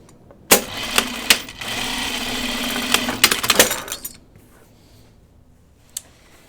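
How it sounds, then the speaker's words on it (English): A home sewing machine stitches the centre front seam of pajama bottoms in a close, steady whir of about three seconds, bracketed by sharp clicks and clunks of the machine starting and stopping, then quiet. "I'm going to sew my center front seam 5/8 inch and my center back"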